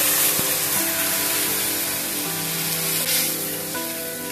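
Water poured into a hot wok of mustard oil, green chilies, black cumin, turmeric and cumin powder, a loud steady hissing sizzle and rush up close, with no voices.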